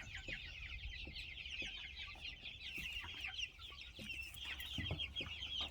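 Several young hens cluck and chatter continuously at a moderate distance on their first time out of the coop, with soft thumps and rustling underneath.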